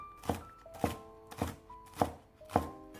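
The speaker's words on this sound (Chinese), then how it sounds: "下面准备一把小葱切成葱花" Knife chopping green onions (scallions) on a cutting board, five evenly spaced, fairly crisp thuds about half a second apart, close and moderately loud, with no talking.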